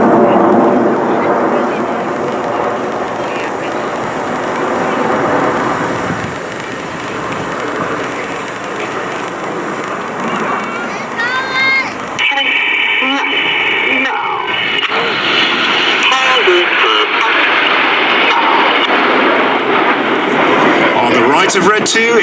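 RAF Red Arrows Hawk jets fly a loop in formation at an air show over New York, a broad roaring jet rush that swells and then fades into the distance, under steady public address commentary.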